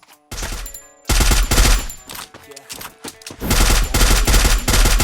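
Rapid gunfire in the mobile game Free Fire, loud close bursts of fast automatic shots in several long volleys separated by short pauses with quieter game sounds.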